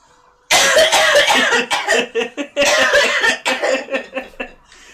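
A loud, close fit of harsh coughing, two long bursts of rapid, rasping coughs separated by a brief gap, tapering into weaker hacks and throat clearing.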